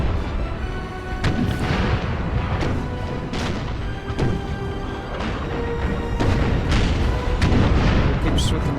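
Musket volleys and artillery booms from a Napoleonic Total War 3 battle in an 1805 Kingdom of Spain campaign, with repeated sharp cracks and heavy thuds over a continuous battle din.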